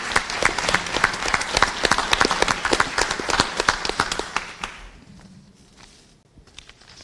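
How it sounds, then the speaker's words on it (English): Audience applause at a school board meeting: sharp, scattered claps from a modest crowd ring out for several seconds, then thin to a few stray claps and fade to quiet. "a round of applause for Louise."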